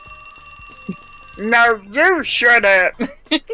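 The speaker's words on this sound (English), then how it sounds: "That's my phone." A phone ringing in the video game 428: Shibuya Scramble, a steady electronic tone that runs alone at first, then people talk over it loudly.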